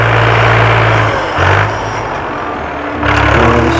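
A farm tractor engine runs loud and close in Azad Kashmir, a steady low rumble that swells and dips as it works, with no talk.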